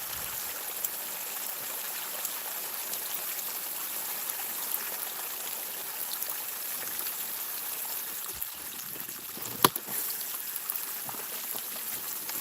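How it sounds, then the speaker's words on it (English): Water rushing through a cleared blockage of leaves and nuts in a stream channel: a steady, soft, even flow with faint scattered drips and one sharp click near the end, heard alone. "Should see the water fly through in a sec."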